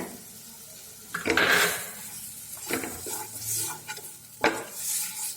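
Gooseberry jam with a pinch of cardamom powder being stirred in a pan: a spoon scrapes and knocks against the pan in several bursts over a soft sizzle, close and clear, with no talk.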